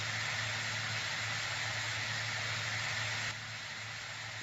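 Steady broadband roar of a jet engine running at low speed on a vehicle in the Immersive Vehicles Minecraft mod, a constant hiss with a low hum beneath that dips slightly near the end.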